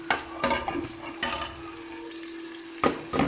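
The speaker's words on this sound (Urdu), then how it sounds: "اب ہم اس کے اندر ادرک لہسن کی جو پیسٹ جو ہم نے بنائی تھی وہ ڈال دیں گے۔" Ginger garlic paste frying with lightly browned onions in a pan, a steady soft sizzle with a few scraping stirs of a spoon against the pan, no talking.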